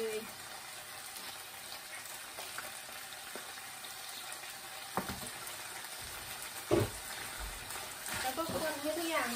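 Fish balls stir-fried with chilli paste in a pan give a steady sizzle with scraping stir sounds and a few louder clinks, while a voice talks faintly in the background.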